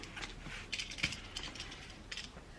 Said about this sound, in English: So let's cut this open